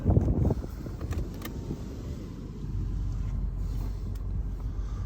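A vehicle drives along a soybean field, giving a low steady engine rumble heard from inside, with a louder thump and rattle at the start. No one speaks.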